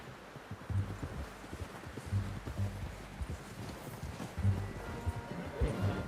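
Horse hooves clip-clopping at a steady walk in the video game Red Dead Redemption 2, a regular rhythmic beat of low thuds with faint rustling and ambient outdoor noise, moderately close.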